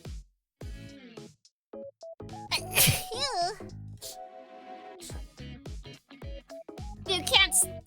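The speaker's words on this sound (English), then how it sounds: "I'm gonna sneeze again." A person sneezes loudly, with a sharp burst amid laughing voices and other people talking close by.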